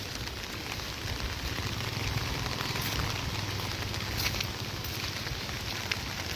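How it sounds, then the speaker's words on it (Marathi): Heavy monsoon rain in Konkan pours steadily beside a flooded river, a dense, even wash of rainfall with no pauses, fairly loud and close throughout, with no talking. "खूप प्रमाणाच्या बाहेर पाऊस पडला आहे."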